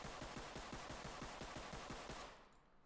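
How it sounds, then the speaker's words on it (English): Rapid gunfire from a secondary weapon in the Ready or Not video game, a full magazine emptied at a target in a fast, even string of about a dozen loud, close shots that stops abruptly near the end. "I just put an entire mag fairly quickly with this weapon and it barely budged at all."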